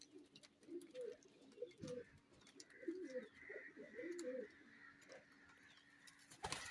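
A young pigeon chick gives soft, low cooing calls in short bursts, faint and close, with a quiet background hum.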